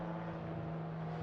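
A Jaguar D-type race car passes at a classic car meeting at Estoril, heard as a steady droning engine tone, faint and distant, alone for a short moment.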